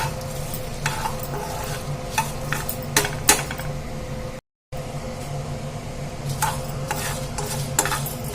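Urad dal and coriander seeds dry-roasting in a pan, with steady stirring scrapes and a faint crackle running throughout, a brief dropout midway, no voices.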